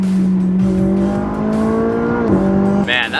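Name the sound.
Nissan GTR sports car engine revving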